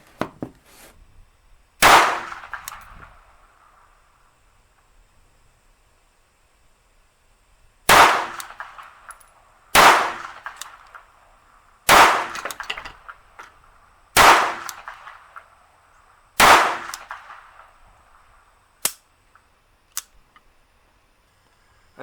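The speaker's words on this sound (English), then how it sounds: "Very nice little handgun, and remarkably accurate for what it is." Seven sharp handgun shots ring out one at a time with uneven gaps, each a loud crack with a short echoing tail, against near silence.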